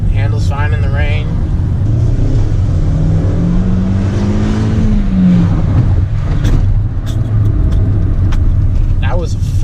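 A 2015 Hyundai Sonata pulls away hard in a first gear launch, its engine note rising and then easing in a steady drone. Faint bits of voice come through over the engine.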